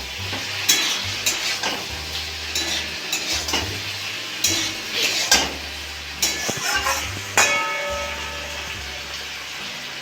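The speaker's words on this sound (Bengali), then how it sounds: "আবার নাড়িয়ে চালিয়ে একটু চাপা দেব।" Mixed winter vegetables and peas are stirred in a hot pan, with a spoon scraping and clattering in uneven bursts over a soft sizzle. The sounds are close and moderately quiet.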